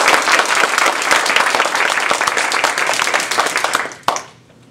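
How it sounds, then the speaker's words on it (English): An audience at a Toastmasters humorous speech contest claps in a dense, lively round of applause that ends abruptly with a final sharp clap and quick fade. "Let's give her a round of applause."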